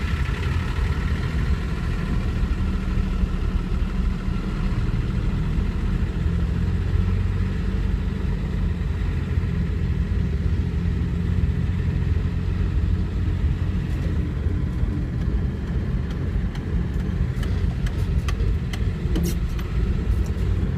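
A 2003 Toyota Land Cruiser 70 Troop Carrier driving, heard from inside the cab: a steady, loud low engine drone and road rumble with transmission play, continuous throughout with a few faint clicks and rattles near the end.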